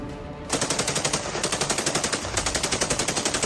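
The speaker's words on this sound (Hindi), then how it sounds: "मैदानी जंग में दोनों तरफ से भयानक गोलीबारी हो रही है।" Automatic gunfire in wartime combat between Russian and Ukrainian forces, loud close bursts of rapid, evenly spaced shots that run almost without pause after a brief lead-in.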